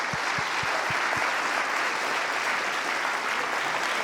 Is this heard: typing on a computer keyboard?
no